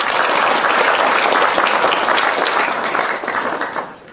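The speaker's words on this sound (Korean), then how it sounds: "박수 환영합니다." Audience at a panel discussion applauding to welcome guests, dense sustained clapping from a crowd, loud and steady, then tapering off slightly at the end.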